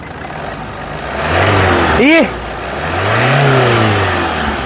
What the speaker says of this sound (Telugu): ఇంజన్ యొక్క నాయిస్ చాలా అంటే చాలా స్మూత్గా అయితే ఉందండి